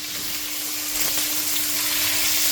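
Prawns fry steadily in hot oil in a pan, a loud continuous sizzle and crackle that holds without pause, close up and with no voices.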